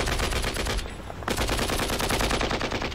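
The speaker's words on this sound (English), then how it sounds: "the tanks would start using the machine gun" A tank's machine gun fires sustained rapid bursts, loud and close, with a brief pause near the middle before the rattling volley resumes.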